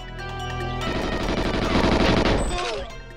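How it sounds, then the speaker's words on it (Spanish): Rapid gunfire in the GoldenEye 007 remake, a dense burst of automatic shots building over a couple of seconds over a steady game background, then cutting off. "hay disparos dentro"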